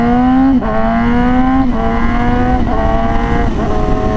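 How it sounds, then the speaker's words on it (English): A Yamaha motorcycle, an R6 or R7, pulls hard while being ridden, its exhaust note loud and close, rising through the gears with brief dips at each shift and steady wind noise underneath. "Hearing a really nice exhaust note and some decent power."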